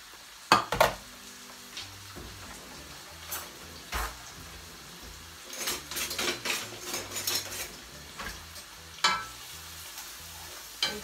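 Onions are stirred in oil in a pot for tuna pasta, a gentle sizzle under repeated scraping and clinking of a utensil against the pot, quiet and close with irregular bursts.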